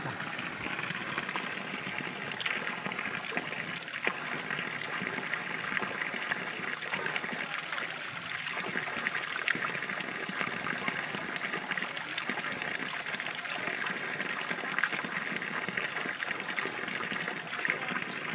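An undisturbed waterfall in Kisulan, Kiblawan, Davao pours in a steady, even rush of water, continuous and moderately distant, with no break or talk over it.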